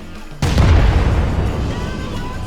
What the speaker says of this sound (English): And it exploded again.